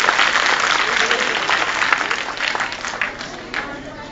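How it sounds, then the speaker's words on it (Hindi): An audience at a Teacher's Day high school function gives steady, dense clapping for students coming to the stage, sustained throughout with a faint murmur and speech underneath. "आप लोग जोरदार ताली बजाकर इस्तकबाल करें"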